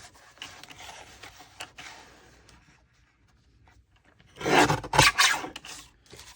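Paper being trimmed for a junk journal tag, a soft raspy cutting noise at first, then a louder burst of scraping, rustling strokes near the end, close and with no talk.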